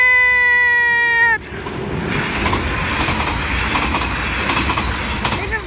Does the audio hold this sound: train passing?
yes